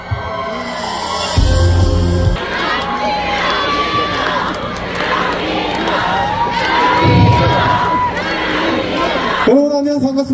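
A festival crowd cheers and shouts loudly for the singer at the Seolbongsan Starlight Festival, with a dense, sustained roar and clapping across the whole stretch and voices rising and falling within the mass of noise.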